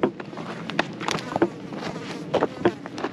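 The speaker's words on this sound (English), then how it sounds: "These bees are chasing me down." Bees buzzing around outdoors in the California mountains near a barbed wire fence, several loud close passes rising and fading over a steady insect drone, with a few short bursts overlapping.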